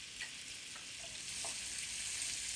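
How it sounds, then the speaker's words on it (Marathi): Finely chopped onion sizzling in butter and oil in a pan, a steady close hiss with a few faint stirring clicks. "आता 1 बारीक चिरलेला कांदा घालते. तेलामध्ये बटर घातलं की बटर करपत नाही."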